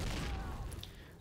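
A grenade explodes in the World War II strategy game Faces of War: a single muffled, heavy boom that rumbles and fades out within about a second.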